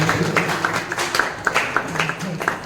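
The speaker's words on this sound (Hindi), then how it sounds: "जोरदार ताली बजाकर हमारे मैडम का स्वागत करेंगे।" Loud clapping greets a teacher at a teacher appreciation ceremony at a music college, with scattered claps under a steady murmur of voices.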